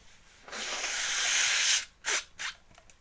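A long, loud, breathy blast lasting over a second, followed by two shorter sharp puffs, like someone blowing their nose up close.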